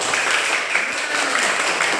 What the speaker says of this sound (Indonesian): Tepuk tangan lagi untuk mereka